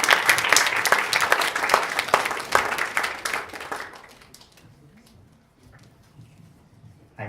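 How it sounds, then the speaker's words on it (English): Crowd applause welcomes a marketing director onstage at a RISE Talks e-commerce session, loud dense clapping for about four seconds before tapering off to near quiet, a voice faintly returning at the close. "please give a very, very, very big round of applause for Sidney Ng"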